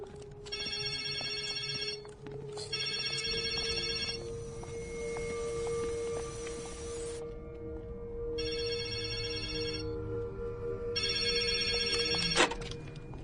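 A telephone bell rings in repeated bursts with short pauses between them, steady and fairly loud over a low background hum, with no talking.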